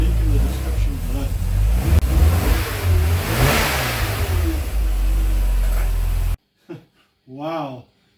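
A VW Golf 3 engine with a blown head gasket, running close by with a rising rev and a loud, rough roar for several seconds before cutting out, followed by a few spoken words.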